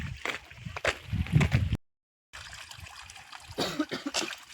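A man with a cold coughs in a comedy sketch: repeated rough, close coughs in quick bursts, broken by a brief silent gap, with faint background noise.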